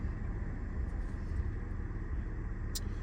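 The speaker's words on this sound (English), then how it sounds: "quick POV drive of the Peugeot 207 that's just had the clutch fitted" Peugeot 207 with a newly fitted clutch creeping along in traffic, heard from inside as a steady low engine and road rumble throughout, with no talking.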